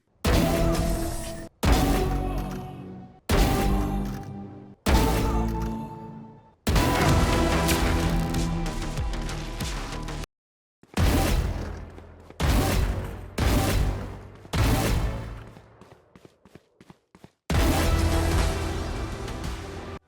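Vandal rifle fire in VALORANT, from the Champions 2021 and Champions 2023 skins, comes in loud, rapid automatic bursts of a second or more, separated by short silences.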